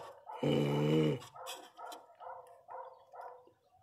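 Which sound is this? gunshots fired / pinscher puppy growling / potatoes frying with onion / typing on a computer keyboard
pinscher puppy growling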